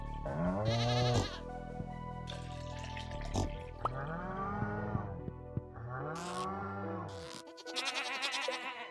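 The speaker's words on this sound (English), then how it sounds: "goats are killing me" Goats bleat in the Stardew Valley video game, a series of drawn-out, wavering calls in quick succession, some overlapping, loud and close over a steady background of game sound.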